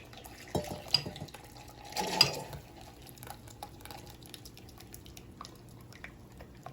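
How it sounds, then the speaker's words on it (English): Hot oil poured into a chili pepper mixture while a wooden spoon stirs, giving faint, brief splashes and scraping with a short sizzling burst midway, otherwise quiet. "once your oil is hot enough, you're just gonna pour it in here while you mix it at the same time"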